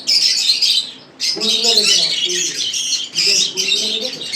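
Exotic cage birds squawk and chirp at a bird farm, a dense, continuous chorus of shrill calls close by, with someone talking over it.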